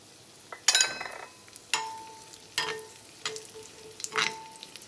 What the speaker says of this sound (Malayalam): ഇതിലേക്ക് ഉണക്കമുന്തിരി ചേർക്കാം